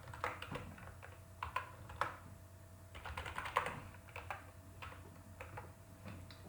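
Code being typed on a computer keyboard: irregular bursts of clicky keystrokes, close and moderately loud, over a low steady hum with no one speaking.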